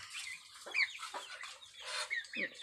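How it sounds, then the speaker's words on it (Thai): Chickens clucking in a chicken coop, a few hens giving soft, scattered clucks and short calls at close range, fairly quiet with gaps between them. "นี่ก็เป็นกรงไก่เนี่ยแหละ"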